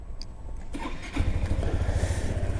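A Yamaha Majesty S 155cc scooter with a variable valve timing engine cranks and fires up, settling into a steady, close idle rumble after a brief starter whir.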